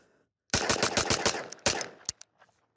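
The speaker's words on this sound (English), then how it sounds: "So let's just go ahead and mag dump the rest of it and just see how fast I can do it." A KelTec Sub2000 carbine is emptied in rapid semi-automatic fire into dirt outdoors, a fast string of about ten loud, sharp shots with a brief gap and a final couple of rounds, echoing afterward.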